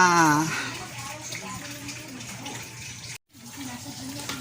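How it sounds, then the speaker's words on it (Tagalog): A pot of water comes to a boil for cooking tapioca pearls, giving a steady bubbling hiss that runs throughout and cuts out for a moment, with a brief voice at the start. "kumukulo na ang ating tubig at ilagay na natin ang tapioca"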